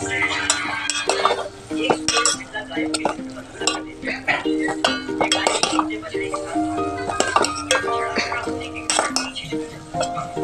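Eggplant and potato curry stirred in a metal pot, loud close spoon scrapes and clanks in an irregular rhythm over a faint sizzle, with tonal ringing and some talking.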